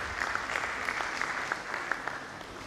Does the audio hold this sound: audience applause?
yes